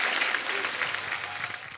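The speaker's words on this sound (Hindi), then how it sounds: "तालियां बनती है इस बात के लिए" Studio audience on a Kapil Sharma comedy show bursts into steady, dense applause, a continuous wash of clapping that holds for a couple of seconds before tapering off.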